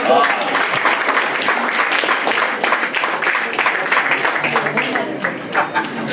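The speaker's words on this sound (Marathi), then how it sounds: "तर जोरदार टाळ्या झाल्या पाहिजे." Audience applause at an award ceremony, a sustained burst of crowd clapping with a voice speaking over it at times.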